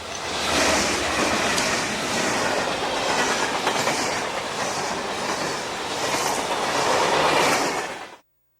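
A CSX grain train rumbles past a signal at the north end of a long passing siding, a loud, steady roar of wheels and cars with faint rhythmic clacks and a brief squeal, cutting off abruptly.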